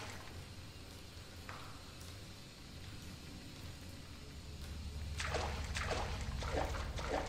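Water sloshing and splashing as a player wades through it in the VR zombie survival game The Living Remain, a low watery churn that builds into several louder splashes near the end.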